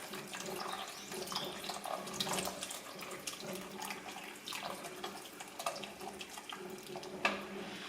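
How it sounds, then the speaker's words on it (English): Cashew milk is poured gradually into a creamy broccoli soup, giving a soft, continuous liquid splashing and trickling with faint clinks, fairly quiet and steady throughout. "And then gradually adding this beautiful cashew milk."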